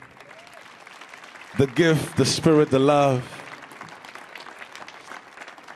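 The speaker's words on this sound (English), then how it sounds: "Let's give another hand of applause for Chila." Soft applause from an audience at a youth foundation stage performance runs quietly through the clip while a voice speaks clearly over it for a moment in the middle.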